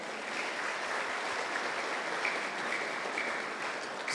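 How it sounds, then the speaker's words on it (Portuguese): A church congregation at Sunday Mass claps in a steady, even wash of applause heard from a distance, with no voices over it. "Palmas para ele."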